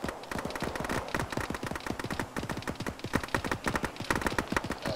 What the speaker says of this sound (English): It's shooting at us.